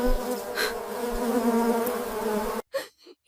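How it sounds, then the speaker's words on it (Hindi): Mosquitoes buzz close by at night beside a dirty, foul-smelling blanket in a lockup cell, a steady whining drone that holds for most of the moment before cutting off abruptly into near silence. "इधर तो मच्छर भी बहुत है,"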